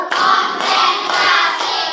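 A fourth-grade class clapping hands together in unison, several loud group claps in quick succession at close range, each burst broad and slightly ragged from many hands.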